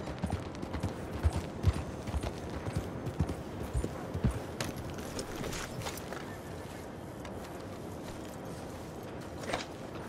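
A ridden horse in the Red Dead Redemption 2 video game trots along, hooves clip-clopping in a steady, close rhythm over a faint bed of ambient game sound.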